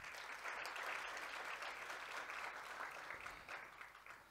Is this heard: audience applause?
yes